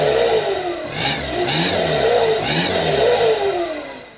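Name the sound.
1997 Volkswagen Passat TDI diesel engine clacking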